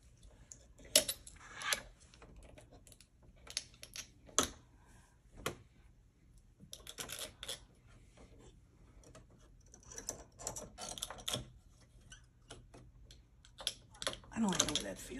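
A sewing machine embroiders blue leather with Madeira Polyneon thread, producing quiet irregular bursts of mechanical clicking and rattling with pauses between, while someone speaks softly at times.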